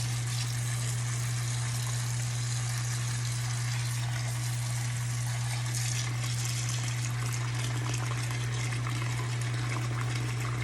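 Near-boiling water pours steadily into a container holding chenille cleaning towels to soak them, a continuous close rushing fill under a low electrical hum, with no talking.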